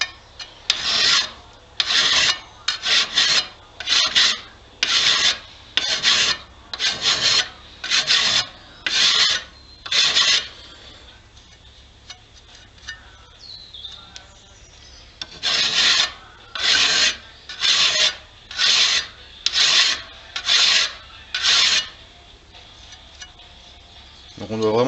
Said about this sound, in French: On prend notre lime plate, on peut s'aider d'une cale pour être bien d'équerre.